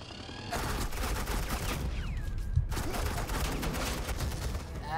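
Rapid suppressing gunfire in Batman The Telltale Series video game, a dense, loud continuous burst of shots that stops briefly, then resumes with heavy impacts, with faint whooshing effects mixed in.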